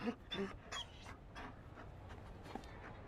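A Mabari dog in Dragon Age Trespasser pants softly in short quick breaths, close but faint, with light whimpering sounds near the start.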